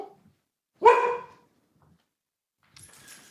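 A dog barks once, loud and close, in a quiet indoor room, followed by a pause and faint rustling; no one speaks over it.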